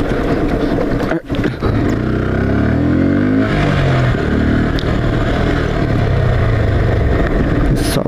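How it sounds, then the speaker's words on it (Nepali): A broken-down scooter's engine labours up a steep, slippery slope, droning loudly and close with rising and falling revs as the throttle strains. "यस्तो ढलानमा बाइक हिँडाउनु यस्तो गाह्रो हुन्छ"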